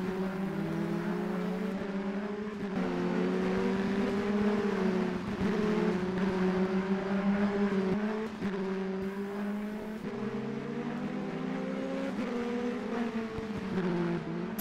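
Formule Renault 2.0 single-seater race cars lap the Val-de-Vienne circuit during a 2017 Coupe de France race, their engines a continuous high, rising and falling whine that shifts pitch through gear changes, fairly close and loud.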